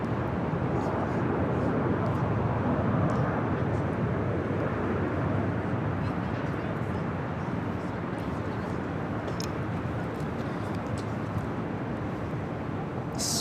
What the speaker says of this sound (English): Next arrival here on the north side is Alaska Horizon Flight 2235 coming in from San Jose, California.